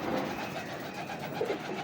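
Soft, low coos of a golden pigeon repeat over a steady background hum, close by and fairly quiet.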